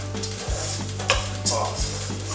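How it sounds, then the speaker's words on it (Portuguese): Rice with carrot stirred in a hot frying pan, a steady sizzle under a few scraping strokes of the spoon against the pan, close and fairly loud with no talking. "Agora a gente vai dar uma mexidinha"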